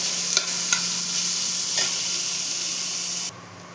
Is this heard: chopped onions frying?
yes